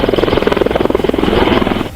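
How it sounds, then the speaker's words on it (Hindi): Army Apache helicopters set down on a snow-covered valley floor, the rotors thumping in loud, rapid, regular pulses over a dense engine roar, close and dominant before cutting off abruptly. "वहां एक के बाद एक सेना के अपाचे हेलीकॉप्टर सफेद बर्फ की चादर पर जैसे ही उतरे, पूरी घाटी में इसकी आवाज गूंज उठी"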